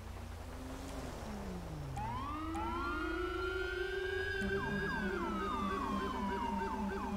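Police car sirens from NYPD-style emergency vehicles in a roleplay video game, sweeping wails that start low and rise into several overlapping tones, loud and continuous, with a faster yelping pattern toward the end.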